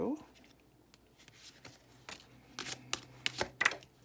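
Cards are drawn from a deck during a reading, giving a series of crisp, close flicks and snaps, some spaced out and some bunched together, with a voice speaking softly alongside.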